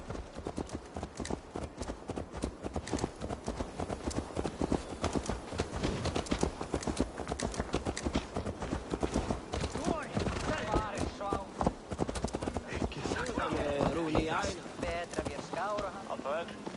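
Rapid, steady hoofbeats clip-clop throughout as a horse trots along in Assassin's Creed Valhalla, with voices talking over the rhythm at times.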